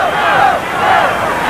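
Stadium crowd at a 1984 USFL football game between the Houston Gamblers and Denver Gold, yelling for the Gold to go for it on fourth and four, a steady roaring wash of distant voices.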